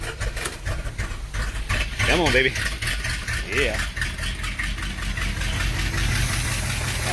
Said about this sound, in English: Good old Mopar starter.